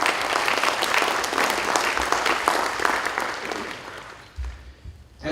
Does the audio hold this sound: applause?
yes